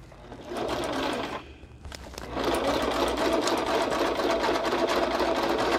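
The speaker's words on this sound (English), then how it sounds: "you can unmute it if you don't like the noise of sewing machines" Sewing machine stitching around the edge of a card, a steady close whirring hum that pauses briefly then resumes and runs continuously, with no talk.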